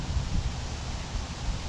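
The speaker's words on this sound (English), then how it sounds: "It's fairly windy out here today" Wind blowing outdoors on a fairly windy day, a steady low rushing roar with soft rustling, close and continuous with no pauses.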